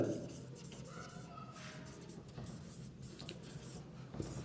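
A marker or chalk scrapes across a board in a teaching setting, giving short scratchy strokes in irregular bursts, quiet and close, with no speech over it.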